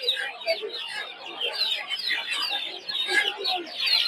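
Farm chickens clucking in a crowded village poultry market in Bangladesh, a dense, continuous chorus of overlapping clucks and calls close by with no pauses.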